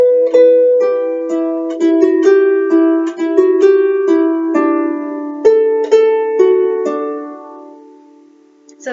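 Harmonica plays a folk melody alone, with a series of clear sustained notes and chords in a steady rhythm, close and fairly loud, fading toward the end.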